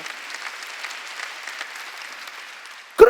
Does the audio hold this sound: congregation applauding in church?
yes